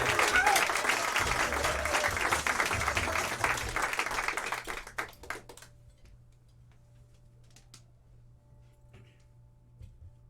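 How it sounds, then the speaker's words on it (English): Audience applause at a student stand-up comedy showcase, loud clapping and crowd noise for about five seconds that then drops off abruptly, leaving a quiet room with faint scattered sounds. "Round of applause, guys. Start it now for your next comic"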